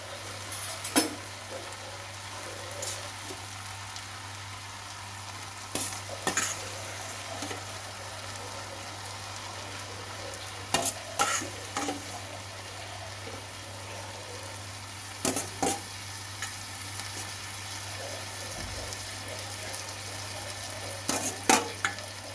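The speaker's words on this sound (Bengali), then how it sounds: "এখন আমি সিদ্ধ করে রাখা মাটনের কিমা দিয়ে দেবো" Boiled mutton mince fries in a pan with a constant low sizzle, while a spoon scrapes and knocks against the metal in short bursts every few seconds, close and alone.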